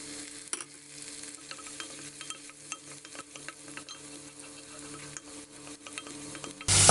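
Chopped ginger, garlic and curry leaves sizzle in hot oil for a sausage curry, a low, steady crackle dotted with sharp spoon clicks and pan knocks, ending in a sudden loud burst.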